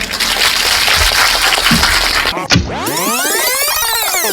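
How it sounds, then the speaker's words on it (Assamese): An audience claps for Assam's chief minister Jayanta Barua in a brief, dense burst of applause, followed by a loud swooping sound effect. "এটা জোৰে এটাই হাত চাপৰি বজাই দিয়ক"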